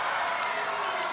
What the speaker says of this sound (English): Big crowd in attendance at the State Sports Centre